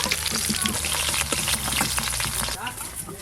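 Sarputi fish fry in hot oil in a home kitchen, a steady close sizzling hiss with crackles that eases near the end while a voice talks over it.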